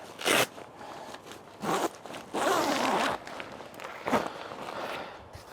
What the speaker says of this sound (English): And then basically zip the door up again.